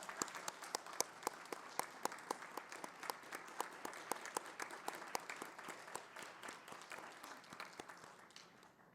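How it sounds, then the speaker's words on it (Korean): A church congregation at a Sunday worship service breaks into sustained applause, a dense patter of many hands clapping steadily at moderate distance that gradually thins toward the end. "박수 부탁드립니다."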